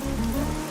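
Rain falls steadily on a hard surface at night, a close, dense patter with a low hum under it and no voices.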